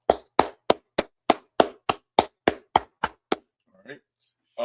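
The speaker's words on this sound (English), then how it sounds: "Let's go ahead and clap it up for our class." Steady, rhythmic hand claps, about a dozen sharp strikes in quick succession from the class audience, fading out before a brief voice speaks at the end.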